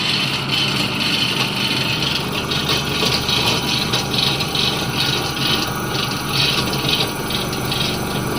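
An induction motor runs under load on a test bench, a loud, steady broadband whirr and rasp with no pauses and no one talking.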